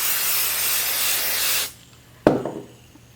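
Spray adhesive hisses in a steady, close burst for about a second and a half onto a sublimation sheet, then cuts off, followed by a single sharp tap and a short ringing decay.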